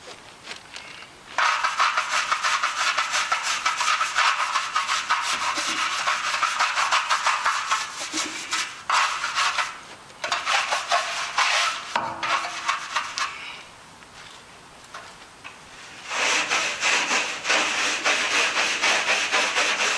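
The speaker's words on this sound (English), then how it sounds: "let's scrub it in a bit. See if it does anything to these barnacles." A brush scrubs barnacles off a pontoon in long stretches of loud, close, rasping strokes, stopping briefly and then starting again.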